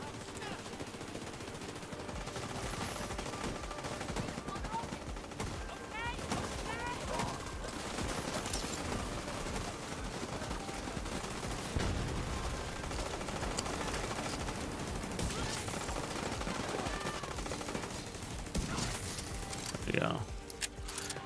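Rapid bursts of automatic gunfire in The Division 2, zombie-loadout shooter gameplay, crackling continuously throughout with mechanical clicks, under someone talking.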